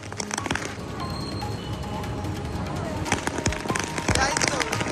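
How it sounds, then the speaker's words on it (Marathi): Firecrackers burst in sharp, crackling pops at a political celebration in Nashik, thickening into a rapid string near the end over a noisy crowd with people talking. "फटाके फोडून यावेळी जल्लोष साजरा केला"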